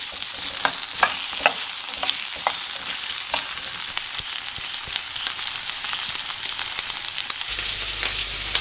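Asparagus fries in a pan over medium-low heat, giving a steady, close sizzle broken by scraping stirs and light clicks, with no voices.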